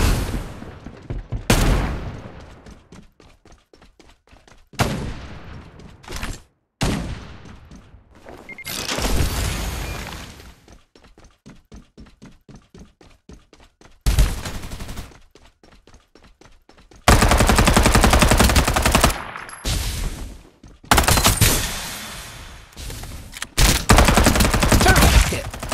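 Rapid bursts of MK.R gunfire from the video game Farlight 84 rattle out loud and close, in several sustained volleys broken by short gaps and a reload pause.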